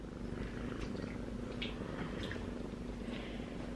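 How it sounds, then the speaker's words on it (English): A cat purrs softly and continuously at close range, a low, steady rumble in a quiet setting on a frosty morning. "She's purring. Can you hear it?"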